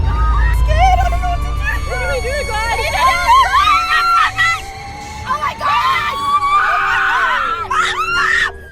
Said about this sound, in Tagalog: Maririnig pa nga sa video ang malakas na hiyawan ng mga babae, dala ng matinding takot.